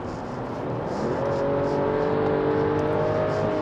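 A Mercedes S450's inline-six single-turbo engine pulls hard on kickdown, heard from inside the cabin as a smooth rising drone with climbing tonal whine, moderately loud and steady, with no talking.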